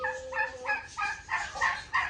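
Backyard fowl, including roosters and hens, call in a rapid run of repeated harsh clucking, gobble-like squawks, loud and close, with no voices.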